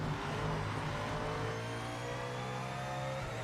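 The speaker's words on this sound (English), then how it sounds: "definitely the engine sounds and that sounds of the cars is brilliant" A race car engine revs in the Project Motor Racing video game, a loud, sustained mechanical drone with rising and holding harmonic tones, steady and up close throughout.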